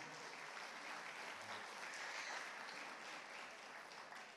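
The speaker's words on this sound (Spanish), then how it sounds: "vamos a darle un fuerte aplauso al Señor" Church congregation applauding the Lord: steady, faint clapping heard at a distance, sustained evenly throughout without a break.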